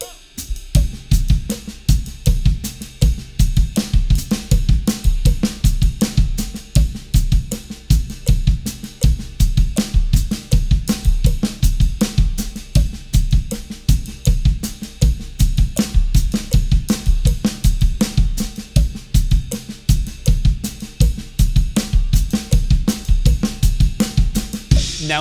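Drum kit playing a slow four-way independence warm-up with paradiddles, steady dense hits of kick, snare and cymbals in a continuous even rhythm, close and loud with no talking.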